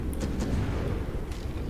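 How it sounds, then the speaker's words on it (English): Internal explosions rumble aboard a starship in a space combat video game, a dense low booming texture with a few sharp bursts crackling over it, no speech. "There was internal explosions."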